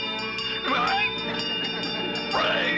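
A cartoon train approaches in a Scooby-Doo style scene, with steady tonal horn-like harmonics and two rising whistle sweeps over a continuous rumble, with a voice speaking.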